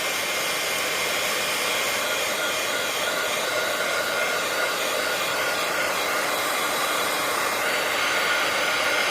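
Steady roaring airflow from a heat gun drying alcohol ink, close and loud, a constant hair-dryer-like hiss that continues without pause and without any talking.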